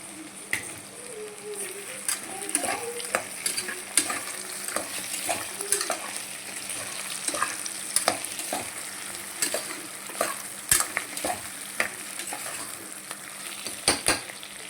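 Vegetables and kasuri methi stirred as they fry in hot oil for vegetable pulao, a steady sizzle with repeated clinks and scrapes of a spoon against the pan, fairly close.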